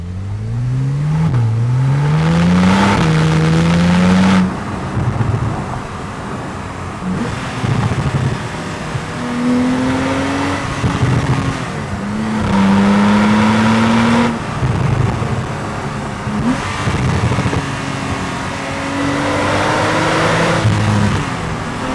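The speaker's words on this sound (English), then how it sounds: "you could hear the exhaust tone change completely straight away" A Porsche 911 991.1 Turbo engine revs repeatedly, pitch climbing and dropping through several bursts, with a deep throaty exhaust note close by.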